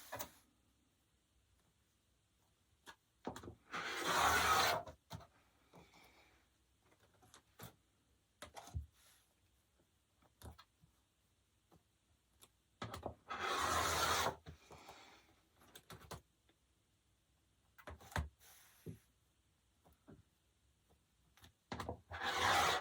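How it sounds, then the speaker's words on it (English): Quilting fabric is cut into strips on a cutting mat in a quiet room, with a few short rasping strokes of the blade through cloth. Scattered soft clicks and handling taps come between the strokes. "let's start cutting all of the strips that it says to cut from the fabric"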